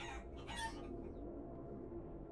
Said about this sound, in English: we have most of the cyborg chickens here now.